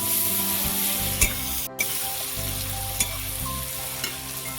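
Chopped tomato, green chili, cumin and Kashmiri chili powder frying in a pan for a prawn curry masala, a close, continuous sizzle with a few sharp clicks and scrapes of a spatula stirring, no talking.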